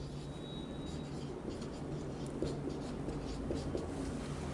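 Steady pen-on-paper writing scratches through a maths worked solution, close and continuous with a light rubbing texture over a low hum, no talk.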